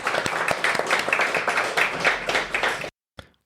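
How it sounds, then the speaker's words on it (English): A podcast audience breaks into a dense round of applause for a guest, close and loud for nearly three seconds before stopping abruptly, followed by one faint stray clap. "round of applause for Anton."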